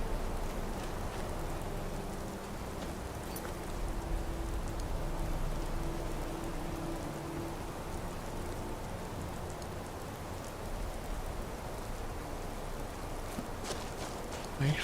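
Steady rain falls in Skyrim, a constant even hiss of drops on surfaces that continues unbroken throughout, with no sharp events standing out.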